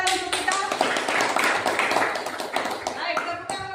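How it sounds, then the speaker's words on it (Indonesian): A seventh-grade class claps for a student group, a burst of hand clapping that is sharp and fairly close, with a voice speaking over it. "Tepuk tangan untuk kita."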